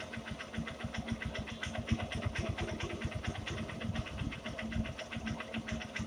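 Honda Shine SP 2019 single-cylinder motorcycle engine idling up close during carburetor adjustment, a steady rapid low thumping that runs continuously and loud throughout with no voices.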